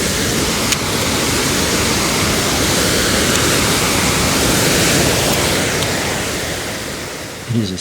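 Swollen mountain streams rushing through gullies below a ridge, a loud, dense and steady roar of water filling the whole clip without pause.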